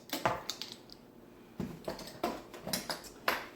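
A spoon stirring vanilla into cookie dough in a bowl, giving a series of soft scraping and tapping knocks in an uneven rhythm, close and fairly quiet, with no talking.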